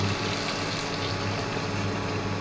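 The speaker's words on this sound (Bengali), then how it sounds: "একটু জল ঢালবো" Water poured into a pan of frying spice mix during home cooking, a steady, close rushing splash that lasts throughout without pause.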